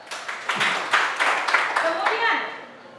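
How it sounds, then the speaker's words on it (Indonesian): Classroom applause for a student, several quick rounds of clapping from a group mixed with voices of people talking. "beri tepuk tangan untuk Dewan"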